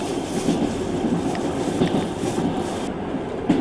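A Trans-Siberian passenger train running from Beijing to Moscow in 1990 rolls along the rails with a steady, loud rumble inside the carriage and faint rhythmic clacks, no voices.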